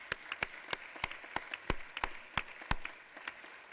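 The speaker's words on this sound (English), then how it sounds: "On peut applaudir" Sparse, scattered clapping from a small audience at a Brussels gathering, individual hand claps ringing out distinctly at an irregular rhythm, fairly quiet and with no one speaking.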